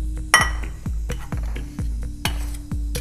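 A plate and dishes being handled in a home kitchen while making cream cheese, a quick series of bright clinks and taps, about seven distinct hits spaced through a few seconds, close and clear with no talking.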